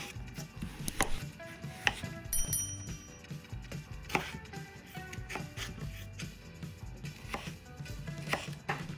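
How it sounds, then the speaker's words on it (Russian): A knife dicing potatoes on a cutting board, with sharp close chops repeating at an uneven pace, moderately loud, with faint kitchen clatter between strokes. "Картофель также кубиком,"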